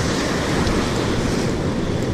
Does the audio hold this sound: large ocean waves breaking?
yes